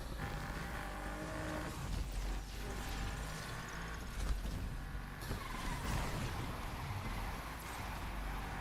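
A car skids in a video game, a continuous rushing skid and engine roar that holds steady and loud for several seconds with slight surges.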